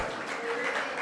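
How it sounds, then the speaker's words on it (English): Brief burst of audience applause at an event celebrating women in the automotive sector, a dense wash of clapping with a faint voice mixed underneath. "can you give a round of applause?"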